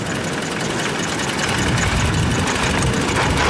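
A 1904 Mitchell Light Car engine runs steadily in second gear while driving, a loud, close, rough mechanical rumble and chug throughout with no voices.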